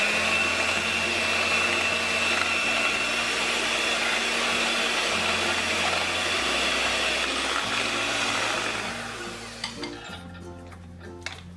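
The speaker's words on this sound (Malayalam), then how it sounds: "ഒരു ബീറ്റർ കൊണ്ട് ഇതൊന്ന് വിപ്പ് ചെയ്യാം." An electric beater whips frozen cream for strawberry ice cream, a steady loud motor whine with shifting pitch for about ten seconds, then it cuts off, leaving a few faint clicks.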